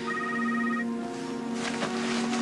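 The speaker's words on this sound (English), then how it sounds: "It's Ronan's phone. It's a blocked number" A mobile phone rings with a tonal electronic ring that holds a steady pitch, heard fairly close, with light background noise toward the end.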